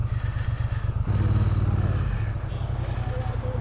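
A Kymco AK550 maxi scooter engine drones steadily while riding on the road to Baguio, a close, loud, pulsing rumble that swells briefly before settling back.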